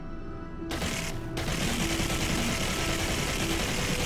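Mounted turret firing in Halo 4, a dense sustained burst of automatic gunfire starting after a brief quieter lead-in and continuing loud and steady to the end, with an engine-like rumble underneath.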